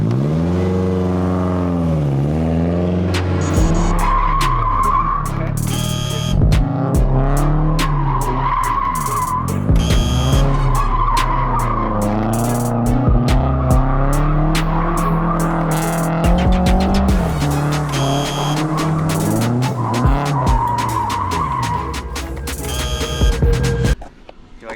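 An older man attempts drifting in a car, with loud, sustained tire squeals rising and falling over a revving engine through repeated slides, the screeching nearly continuous for the whole stretch.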